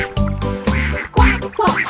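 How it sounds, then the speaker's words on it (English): Cartoon ducks quack several times in a bouncy children's counting song, the quacks close and loud over music. "2 happy ducks."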